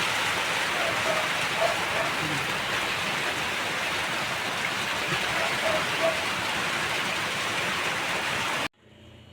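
Steady rain falls in a rural Philippine home setting, a dense even hiss of drops on surfaces that holds constant and close throughout before cutting off abruptly at the end.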